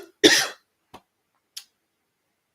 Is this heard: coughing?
yes